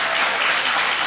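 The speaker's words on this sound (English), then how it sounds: "Please give your round of applause to all the facilitators" A brief burst of dense, loud applause from a graduation ceremony audience honoring the facilitators, a steady wash of many clapping hands with no voices on top.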